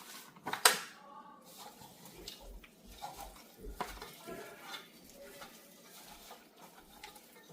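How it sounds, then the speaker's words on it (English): Marinated goat meat and chicken are mixed by hand in a bowl before going onto winter grill skewers, giving soft squelching, scraping and light clinking sounds that come in irregular bursts, close and fairly quiet. "pouring it on the meat, and then mix it up nicely, prep it, get it ready to go"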